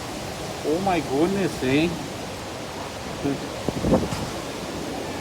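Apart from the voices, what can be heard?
strong wind blowing in a storm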